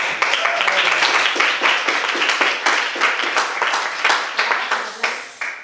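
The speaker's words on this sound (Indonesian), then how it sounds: "Berikan tepuk tangan untuk kelompok atas ya, kelompok 5 ya." A classroom audience claps for a student group during a teaching performance assessment, a burst of quick hand claps that stays fairly loud before tapering off toward the end.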